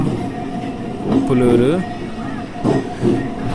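A Machilipatnam–Vijayawada passenger train runs with a steady rumble and hiss, plus a brief squeal-like tone, as someone speaks over it.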